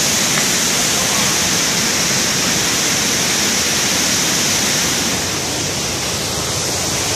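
Steady broadband rushing of water, loud and continuous like a nearby waterfall or torrent, easing slightly toward the end.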